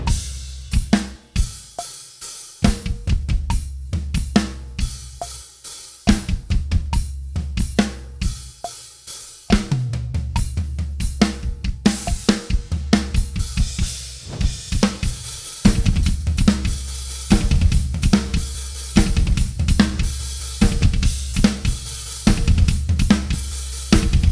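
An energetic drum beat with rapid double bass-drum kicks driving under crisp snare and cymbal hits, loud and continuous, with no voices.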